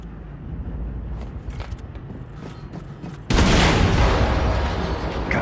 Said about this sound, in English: Explosion in der Hangarbucht.